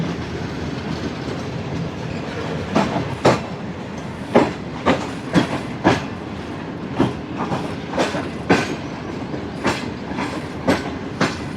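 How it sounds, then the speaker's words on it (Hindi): The Shalimar Express passenger train in Pakistan rolls onto a loop line near Nawabshah, its wheels beating out a steady clickety-clack of sharp rail joint clicks over a constant rumbling roar, with no voices. "ट्रेन लूप लाइन की तरफ जाती हुई।"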